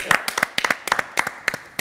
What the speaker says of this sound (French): Écoute, tout le monde a été bon, on peut applaudir